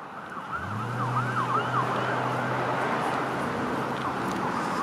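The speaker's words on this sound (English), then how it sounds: "That's an ambulance right there" An ambulance siren on a Toronto street wails with rising and falling tones over a low engine rumble and traffic noise, moderately distant and continuous.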